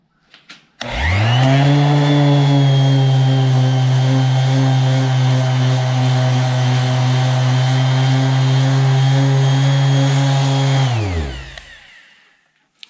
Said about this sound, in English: So we'll just sand those up like that